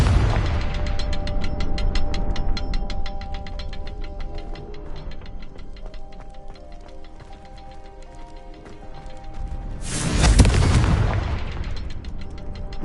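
A Confringo blasting spell goes off in Hogwarts Legacy, one loud booming burst rising near the end over a steady bed of game music.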